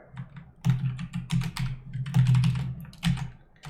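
Quick bursts of keystrokes clatter on a computer keyboard, close and fairly loud, in irregular clusters with short pauses between them and no talking.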